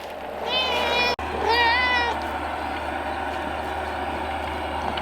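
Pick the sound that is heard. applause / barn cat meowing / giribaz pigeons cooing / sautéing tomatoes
barn cat meowing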